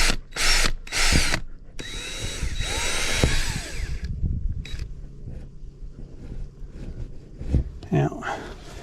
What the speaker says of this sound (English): we're going to drill with a small hole just to be sure